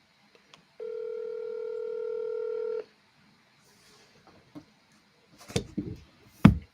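A telephone being dialed gives a single sustained DTMF keypad tone lasting about two seconds, close and clear. Faint clicks follow, then a few short louder handling knocks in a quiet room.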